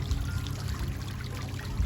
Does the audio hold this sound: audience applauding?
no